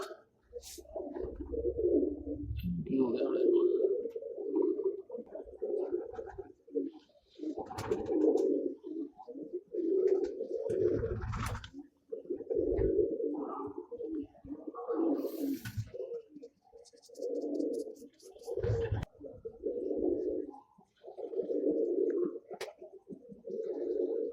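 Pigeons coo in a steady run of low, rolling calls that repeat almost without pause, close and fairly loud with no talking over them.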